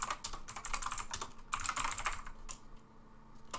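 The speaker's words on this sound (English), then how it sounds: "I can hear you typing" Rapid computer keyboard typing during an online Kahoot game session, a steady clatter of keystrokes heard close on the mic with brief pauses, no voices.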